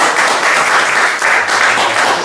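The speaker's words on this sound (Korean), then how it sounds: "박수 한번 주세요" Audience applause at a motivational humor lecture, a steady dense clapping from a crowd that fills the whole stretch at close range and loud, swelling slightly midway.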